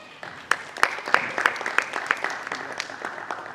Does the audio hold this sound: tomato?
no